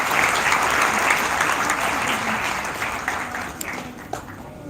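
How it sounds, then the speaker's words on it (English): An audience at a trust gathering gives a speaker a sustained round of clapping that fills the room evenly, then slowly fades toward the end. "Please give a big round of applause to Professor Farhan Magba."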